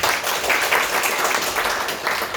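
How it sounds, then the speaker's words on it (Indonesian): A church congregation applauds steadily throughout, a dense wash of many hands clapping at even loudness with no pauses and no talk. "berikan tepuk tangan"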